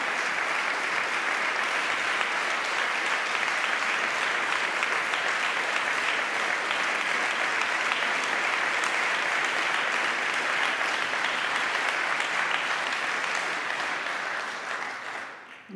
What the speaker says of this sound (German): Das ist Ihr Applaus.